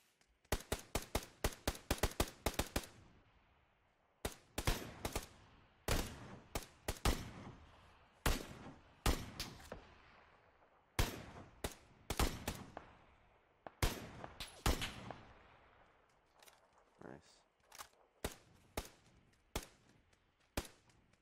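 Gunfire from the battle royale game PUBG on the Miramar map, with rapid bursts of close, sharp shots followed by spaced single and double shots, loud and dry with short decays and no talk.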